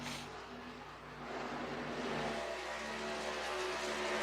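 Chevrolet race truck engines in an eSports truck series racing game at Michigan International Raceway drone steadily at mid pitch, rising slightly as they pass, a continuous faint engine hum with no talk.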